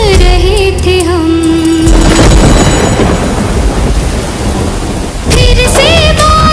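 Thunder and rain sound effect in a Hindi romantic song: a loud rumbling thunderclap and hissing downpour fill the middle, with sung melody and instruments before it and resuming afterward.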